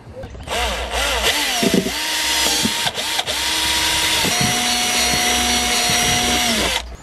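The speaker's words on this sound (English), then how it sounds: "I might drill a couple of holes in this table" A power drill whines loudly and steadily while drilling holes into a table, its pitch dipping and rising as it bites into the material, with brief pauses between runs.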